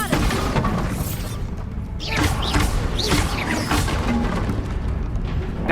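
Bombarda explosion spell cast in Hogwarts Legacy, a loud dense blast of crashing, rumbling debris that sustains through the whole moment with shattering impacts layered over the roar.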